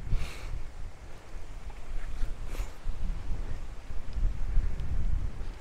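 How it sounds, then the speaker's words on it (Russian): Steady wind rushes across an open field during a bike ride, buffeting the microphone with low, uneven gusts for several seconds, no voices. "Слышно, как дует ветер."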